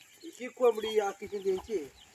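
A farmyard chicken clucking close by in a short, rhythmic run of calls, with a rural setting around it.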